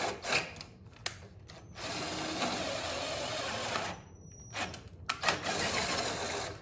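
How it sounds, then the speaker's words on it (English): A thread tap being run through a motorcycle crash bar gives steady, close grinding and scraping passes with short pauses between them, and no talk over it. "And the tap all the way through a couple times."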